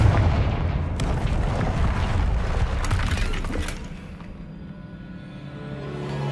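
A Confringo fire-blast spell erupts in Hogwarts Legacy, a loud booming burst with crackling debris that rumbles for several seconds before settling into a quieter low hum.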